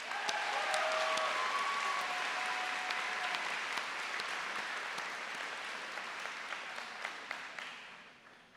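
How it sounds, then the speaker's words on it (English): Sustained audience applause at a college commencement ceremony, a dense wash of clapping that starts loud and slowly thins, with a few sharper individual claps near the end. "Let's give them all a big round of applause."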